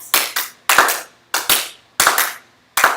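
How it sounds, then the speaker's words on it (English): A dance-class audience claps in a steady rhythm of sharp, loud hand claps, arriving in quick pairs and short bursts close to the listener, with no talking. "while our audience claps"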